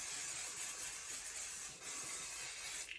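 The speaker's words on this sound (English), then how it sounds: "Then I'm going to spray this one with some Pixie spray just in case I decide to use this one." Steady hiss of a Pixie spray aerosol being sprayed onto mixed media paper, close and continuous for about three seconds before cutting off.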